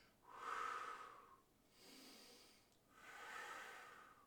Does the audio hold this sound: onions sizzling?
no